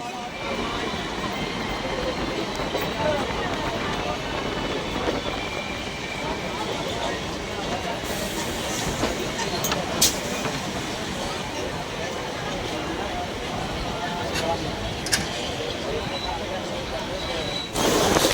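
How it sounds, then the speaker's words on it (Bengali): Train rolling into Rejinagar station, a steady broadband rumble of wheels and carriage noise running throughout at close range, with a few brief sharper clanks along the way. "ট্রেন এখন রেজিনগর স্টেশনে পৌঁছে গেল"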